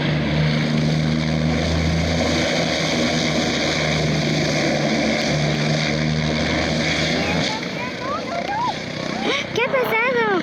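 A helicopter spinning out of control on the ground gives a loud, continuous engine and rotor drone with whooshing turbulence, while a voice talks over it and higher warbling tones appear near the end.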